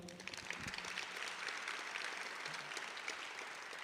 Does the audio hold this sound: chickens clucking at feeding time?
no